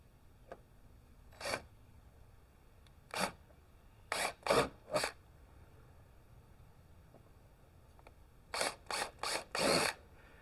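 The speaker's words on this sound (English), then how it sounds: "we're going to drill these holes first" Quarter-inch bit drilling holes through a plastic fender flare on a 2023 Kawasaki Teryx4, heard as short separate bursts: a single one, then a tight cluster of three, then a final run of four, with quiet gaps in between.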